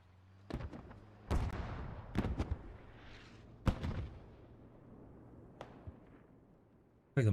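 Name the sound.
mortar fire in the video game Squad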